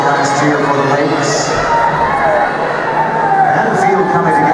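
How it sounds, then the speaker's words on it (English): A crowd cheers at a girls' 400m race at a 3A track meet, a loud, sustained roar of shouting spectators mixed with announcer talk. "the last cheer for the ladies"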